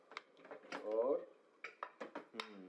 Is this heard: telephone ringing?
no